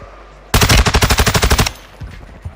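Rapid machine gun fire rings out in a first-person shooter video game as one loud, steady burst of about sixteen closely spaced shots. Brief softer game sounds follow it.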